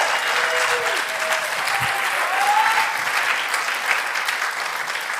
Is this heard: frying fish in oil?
no